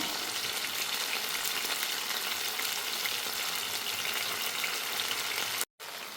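Chicken chilli fries in a pan with a loud, continuous close sizzle and a brief break near the end as the pieces are flipped.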